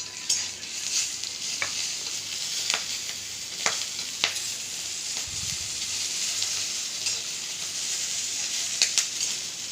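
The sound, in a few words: green chillies, nigella seeds and salt frying in oil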